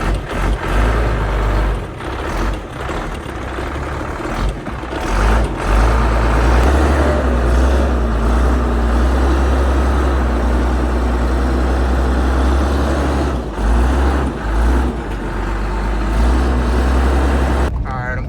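A Ford F-250 pickup driving at night, its engine giving a steady low rumble with road noise inside the cab, while people talk intermittently over it.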